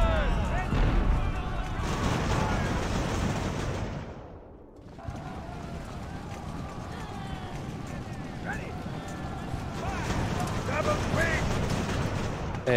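Gunfire and artillery from a naval-era land battle in Ultimate Admiral: Age of Sail, a dense continuous roar of shots and booms that dips briefly midway, with someone talking over it.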